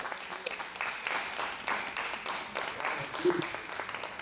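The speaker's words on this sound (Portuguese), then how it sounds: "Mas pode aplaudir o Senhor." A church congregation claps together during a sermon, a soft, somewhat distant patter of applause that rises and falls over several seconds, with voices mixed in.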